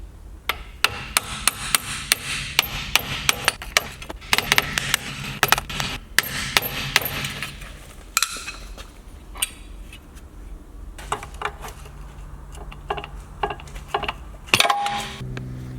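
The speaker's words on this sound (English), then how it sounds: "Use a small bar with a hammer to pull the axle out, flange out." Repeated sharp metallic strikes and clanks, close by, in irregular bursts with brief pauses, as a hammer knocks a small bar to pull the rear axle flange from a BMW E60 differential.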